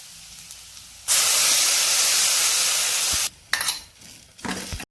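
Tamarind water with salt and turmeric hits a hot pan while South Indian sweet potato masiyal is cooked, bursting into a loud, steady sizzle for about two seconds, followed by shorter sputtering hisses as it settles.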